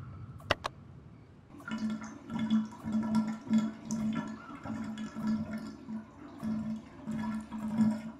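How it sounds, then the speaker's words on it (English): Shower water running in The Chaput's Baby game, a steady hissing spray with a low gurgling flow that ebbs and swells throughout, after a couple of sharp clicks at the start, no voices. "At 3 p.m., turn on the shower."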